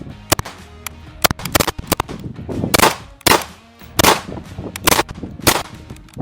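Kriss Vector with a forced reset trigger firing 230 grain ammo outdoors, a string of loud, sharp gunshots in irregular pairs and bursts with metallic clanks between them, close by.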